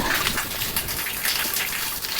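Spring water gushes steadily from a Nandi statue at a forest Shiva temple, a close, continuous splashing flow with no talk.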